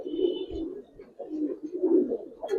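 Giribaz pigeons coo in a loft, a female among them, with repeated low throaty coos running in steady waves close by and a faint high tone in the background.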